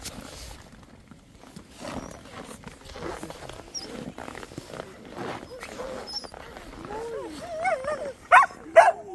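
Several adult Samoyed dogs vocalizing, with low grumbling and rising howl-like whines and yips growing louder toward the end.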